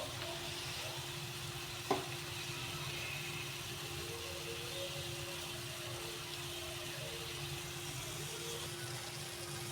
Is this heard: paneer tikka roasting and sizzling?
yes